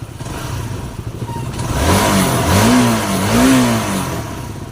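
A Honda CBR150 motorcycle engine runs close by after its throttle body is cleaned, idling, then rising in two short revs that fall back, loud and alone.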